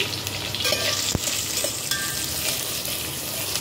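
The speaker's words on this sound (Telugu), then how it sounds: "వీటిని బ్రౌన్ కలర్లో ఫ్రై చేసుకోవాలండి." Thinly sliced onion and green chillies frying toward brown in a pan, giving a constant close, bright sizzle with occasional stirring scrapes and one sharp tap, no voices.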